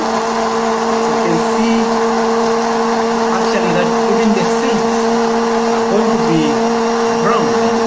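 Blender whirring steadily through a mix of lemon juice, lemon seeds, garlic and ginger, a loud constant motor drone with a strong steady hum and slight wavering pitch, unbroken from start to finish.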